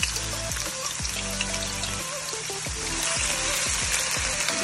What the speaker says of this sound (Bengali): এবার কিছু পেঁয়াজ কুচি আমি দিয়ে দিব।